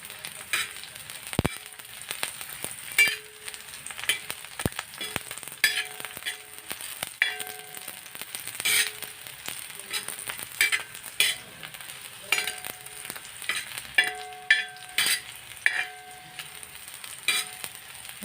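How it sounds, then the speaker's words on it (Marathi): Garlic frying in hot oil on a lowered gas flame, a busy crackling sizzle with frequent stirring, scraping and metallic clinks of a spatula against the pan throughout. "बघा, लसूण फ्राय होतोय, लाल होत चाललाय."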